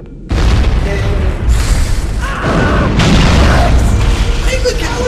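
A loud, sustained boom from an explosion in the Halo video game, rumbling on for several seconds with layered blasts and debris, while a voice talks over it.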